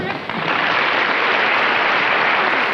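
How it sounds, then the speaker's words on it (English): A studio audience breaks into loud, dense applause for Joyce as she enters a Honeymooners scene, a steady wash of clapping that holds for the full few seconds. "Applause break for Joyce"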